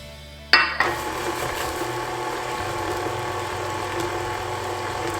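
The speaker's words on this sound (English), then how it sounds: "you can either start your mixer on low like that" An electric mixer on low speed beating muffin batter with chocolate chips, a sharp start then a steady whirring, rattling drone close by, running alone without talk.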